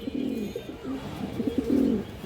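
Silver-line pigeons coo in a series of soft, low, rolling calls, several overlapping phrases close by with a faint background hiss.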